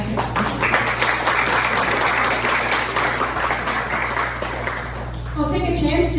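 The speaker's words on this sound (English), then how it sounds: "So also give yourselves a round of applause for coming out and engaging in municipal politics." Audience applause at a Bridgewater municipal candidates forum, sustained clapping from a room of people for about five seconds before it fades and a voice starts talking.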